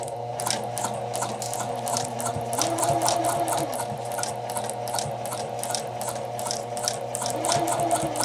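A sewing machine stitching a jacket bodice seam runs in steady close bursts of rapid needle clatter over a motor whir, pausing and restarting briefly, without any talk.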